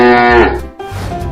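A cow moos loudly and close by, one long drawn-out low followed by a second, rougher bellow; the animal appears in a children's animated animal-painting show.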